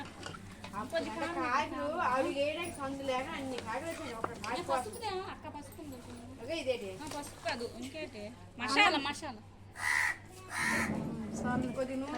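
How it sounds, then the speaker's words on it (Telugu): A crow caws a few times near the end, harsh and fairly close, after a stretch of people talking. "కాకి కూడా వచ్చింది ఇప్పుడే"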